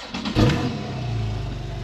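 A Porsche 911 Carrera S Cabriolet of the 991.1 generation, with PDK gearbox and switchable sports exhaust, fires up with a short loud blip, then settles into a throaty, steady idle close by.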